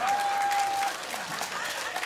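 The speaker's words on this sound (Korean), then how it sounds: "박수 한번 쳐주세요." A crowd claps at a night pumba performance during the Daegu Hanwoo charcoal-grill beef festival, a short, dense burst of outdoor applause with a brief steady tone at the start and a voice in the background.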